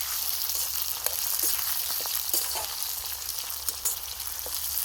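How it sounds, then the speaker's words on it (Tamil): Dried red chillies fry in hot oil for sambar, giving a steady high sizzle with faint scraping taps as they are stirred, close and continuous with no voices. "இப்போது சாம்பாருக்கு தேவையான வரமிளகாய் போட்டு அப்படியே கிண்டிக்கலாம்."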